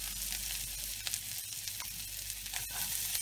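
Onions stir-frying in a pan for ham macaroni pasta, a dense continuous sizzle with faint stirring scrapes and a low steady hum beneath, close and even throughout.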